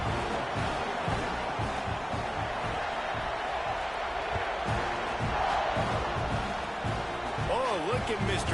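Broadband roar of a stadium crowd in a football video game, a Tennessee versus Texas A&M matchup before a kickoff, steady and loud throughout, with a voice briefly rising over it near the end.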